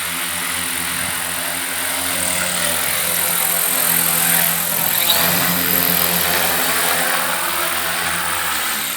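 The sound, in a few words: electric propeller-driven aerosled running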